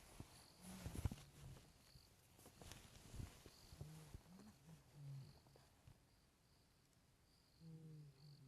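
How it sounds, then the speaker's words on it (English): A black-backed jackal calls repeatedly during a live safari drive, giving rough, wavering yelps and short roar-like cries over a bed of insect buzz and faint rustling, with brief knocks in between. "which is a blackback jackal calling there"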